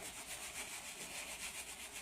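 Sponge rubbing shampoo into a dog's fur during a bath, a steady soft scrubbing rasp in a rhythmic back-and-forth, close and moderately quiet, with no talking.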